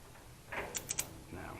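A ratchet strap is cranked tight on a Ducati Hypermotard on a trailer, making a quick series of three or four faint metallic clicks, close by, followed by a brief rustle.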